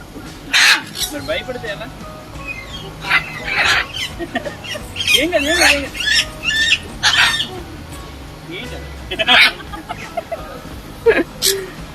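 Small birds chirp and squawk in short, sharp bursts scattered throughout at Al Zorah zoo in Ajman, UAE, with people talking nearby underneath.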